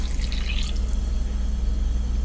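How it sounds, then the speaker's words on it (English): Cooled brine poured into a jar of peach peppers and garlic for lacto-fermented hot sauce, a steady close liquid splashing and trickling over a low hum, with no talk. "Now I will pour it into the jar with the garlic and the peppers."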